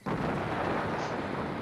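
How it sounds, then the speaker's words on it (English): Fireworks bursting in a video game: a sudden loud boom followed by a sustained, rumbling roar that stays strong for over a second. "The fireworks are going off."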